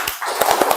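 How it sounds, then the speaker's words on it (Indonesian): A group of teachers at a Budaya Positif training session clap together in a quick, short run of several sharp claps, close and moderately loud with a faint room ring. "Tepuk tangan 3 kali, tepuk tangan 4 kali."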